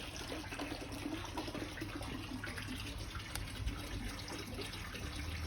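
Water runs steadily into a garden koi pond, a constant close splashing and gurgling stream with a faint high hiss above it, unbroken and with no voices.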